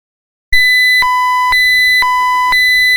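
A VT SCADA water filtration control system sounds its alarm: a steady electronic tone held alone, with short sharper beeps pulsing roughly every half second on top, loud and clean without any talk.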